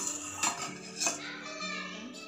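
Metal lid set down on a pot of rice kheer at home, two distinct clinks of metal against metal close by, with a low background hum and no talking.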